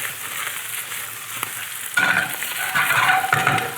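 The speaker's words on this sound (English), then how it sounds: "All right, scallion's on the pan. I'm going to give that a stir" Scallions frying in a pan are stirred, giving a steady close sizzle with scraping and clinking from the utensil that grows busier partway through.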